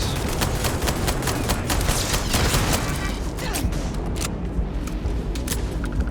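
Gunfire aimed at a turret in the video game Starfield, rapid dense bursts of shots and impacts, loud and continuous, with a voice speaking briefly.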